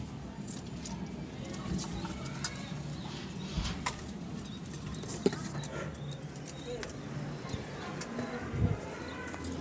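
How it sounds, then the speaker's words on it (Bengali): Rural Rajshahi pigeons, including feather-footed birds, coo in soft, low repeated calls from a flock nearby, with a few scattered clucks and people talking over them. "কবুতরগুলো দেখলে মন ভরে যাবে"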